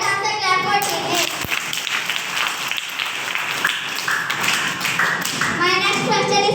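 A group of children claps for Team A after a correct answer in a school quiz competition, bursts of hand-clapping mixed with kids' voices talking throughout.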